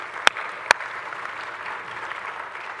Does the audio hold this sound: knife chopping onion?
no